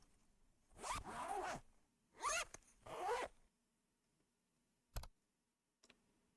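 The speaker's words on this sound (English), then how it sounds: "And the zippers." Clothing zippers are zipped in three brisk, close rasping pulls, each under a second, followed by a couple of faint sharp clicks in an otherwise quiet setting.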